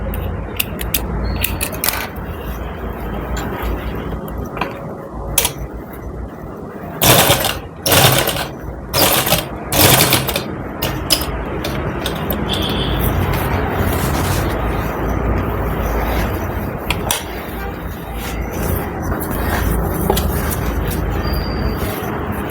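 A sewing machine stitches a belt onto a ready-to-wear saree with a steady close mechanical whir, broken in the middle by a series of sharp knocks and pauses before the stitching resumes.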